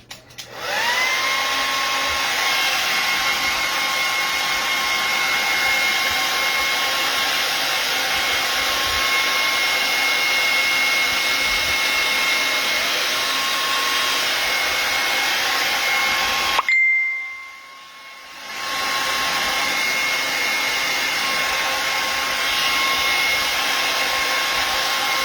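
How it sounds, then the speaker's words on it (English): A handheld hair dryer blows steadily at close range while drying acrylic paint on canvas. It gives a constant whirring roar with a high tonal whine, cuts out briefly, then runs again. "I'm going to turn my hairdryer on."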